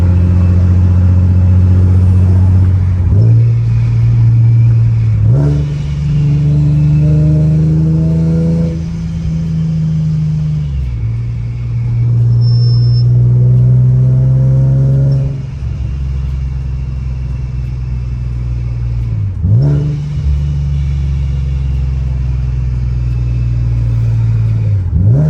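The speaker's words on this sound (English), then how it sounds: "I'm gonna take it for a quick drive right now" A supercharged Nissan 370Z with a Z1 supercharger kit, heard from inside while driving: a loud, deep engine drone rises through repeated revs and gear pulls, with brief dips between shifts.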